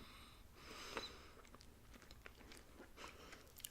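Someone chews a hard, lemon-flavored snack from a Munch Pak, a quiet close run of crunches and mouth noises with soft breaths between bites.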